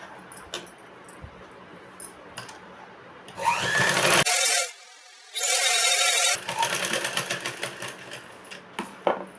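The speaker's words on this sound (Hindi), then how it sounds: "इस पट्टी को इस तरह से इसके ऊपर रख के सिलाई चलानी है" A sewing machine stitches a strip onto a plain tusk-style blouse. Two close, loud runs of rapid stitching, each about a second long, are framed by fabric handling and small clicks.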